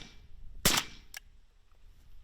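A single suppressed shot from an Arsenal 5.56 rifle fitted with a Resilient Putnik suppressor, a sharp close crack followed by a fainter echo-like click about half a second later, no voices.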